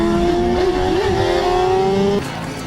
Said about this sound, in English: he actually pressed on the accelerator of the car, okay, which caused the torque of the tires to accelerate